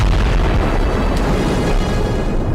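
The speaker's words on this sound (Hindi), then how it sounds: "वीडियो में साफ देखा जा सकता है कि दक्षिणी लेबनान में कितने भीषण धमाके हो रहे हैं।" Israeli air strikes in southern Lebanon produce a dense, continuous roar of heavy explosions, a loud, rumbling wall of low blast noise that holds steady without clear gaps and has no voices.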